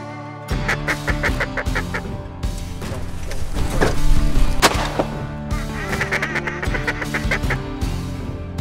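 Mallard ducks call at a Washington duck-hunting spot, with loud, overlapping quacks and honking calls that run steadily through the stretch. There are repeated bursts of sharp harmonic calls and no talk.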